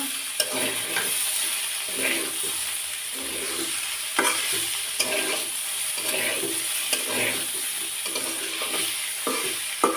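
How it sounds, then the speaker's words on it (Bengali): Bitter gourd fries in a pan under a constant sizzle, stirred with repeated scraping strokes at a fairly even rhythm, close and clear. "আবার এখন আমি ঢাকনা খুলে নেড়ে চেড়ে নেব"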